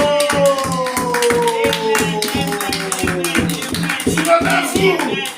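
Congregation in a church clapping in a steady rhythmic beat, loud and close, with sustained singing voices and sliding tones running over the claps.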